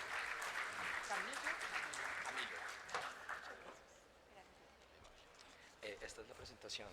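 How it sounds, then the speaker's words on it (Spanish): Audience applause at a professional talk welcomes a speaker, dense clapping that is loudest at first, then thins and fades before rising briefly again at the end. "Lo recibimos, por favor, con un fuerte aplauso."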